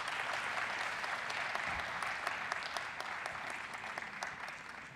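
A crowd applauds at an official elections launch event, a steady, fairly faint wash of clapping from many people that holds evenly for the whole stretch.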